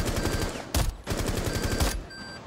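Rapid automatic gunfire in the tactical shooter Rainbow Six Siege, dense bursts of close, loud shots rattling in quick succession with a brief pause between volleys.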